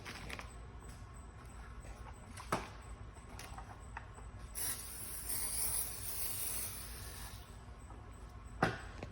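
Soapy water sprayed beneath vinyl wrap on a 4Runner bumper, a soft hissing burst lasting several seconds near the middle, with faint rubbing and a couple of sharp taps around it.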